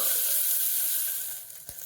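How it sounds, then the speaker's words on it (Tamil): Food sautéing in a pan for one-pot dhal rice, a loud steady sizzle that fades slightly toward the end, with a brief utensil clink. "நல்லா வதங்கட்டும்."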